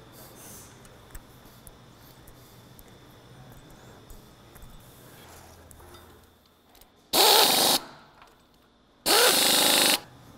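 Bolts are driven into the gear operator of a Milwaukee Valve butterfly valve: two loud, close bursts of a power tool about two seconds apart follow a long stretch of quiet room noise.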